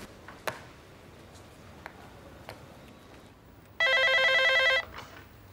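An office telephone rings once with a loud electronic trill lasting about a second, preceded by faint scattered taps and clicks in a quiet room.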